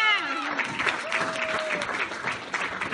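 Audience applause for two competitors on stage at a bodybuilding-style competition, a continuous patter of clapping with a brief cheer at the start and a whistle-like tone midway.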